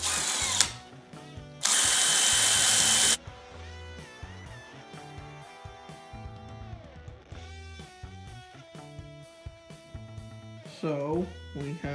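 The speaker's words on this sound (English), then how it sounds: "we have the holes drilled in the bottom" Power drill boring holes in a BT200X trike conversion frame: a loud whining burst of drilling, then tonal motor and mechanical noises that rise and fall, with a person talking throughout.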